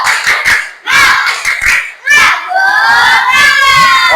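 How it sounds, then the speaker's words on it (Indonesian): Students in a classroom break into loud rhythmic clapping with shouts and cheers, a spirited group clap repeated in bursts, the crowd noise swelling to a sustained excited roar by the end. "Sekali lagi, tepuk semangat."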